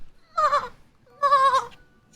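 A human voice imitates a sad, somber horse whinny with two quavering, bleating cries, each under a second long, close and alone with a pause between them.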